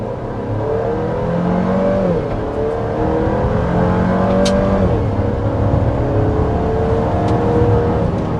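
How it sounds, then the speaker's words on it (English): The engine of a 2024 Chevy Traverse Z71 SUV revving hard under heavy acceleration to over 60 mph, the pitch climbing and dropping as gears shift, heard from inside the vehicle with constant road rumble. "we're going to go ahead and start with a hard acceleration"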